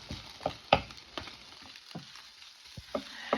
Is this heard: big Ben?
no